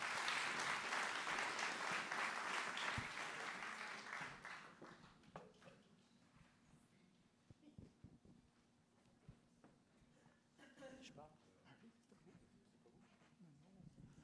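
Lecture-hall audience applauding, dense loud clapping over the first few seconds that thins and fades out, followed by a single voice speaking and light shuffling.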